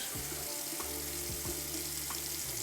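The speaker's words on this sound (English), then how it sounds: "The razor, the actual razor, the brand new one, I'll rinse it off." Running water from a bathroom tap rinses a brand new safety razor, a steady close splashing stream with a few brief knocks as the razor is turned under the flow.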